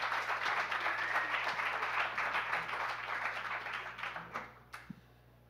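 Audience applause at a science lecture on unmasking cancer cells, a steady wash of many clapping hands over a low hum, tapering off with a few last scattered claps near the end.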